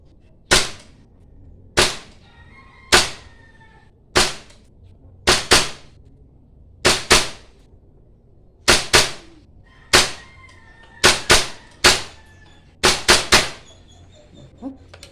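A gas blowback M4 airsoft rifle fires about fifteen sharp semi-automatic shots, spaced unevenly and sometimes in quick pairs or triples, each crack followed by a short metallic ring, loud and close.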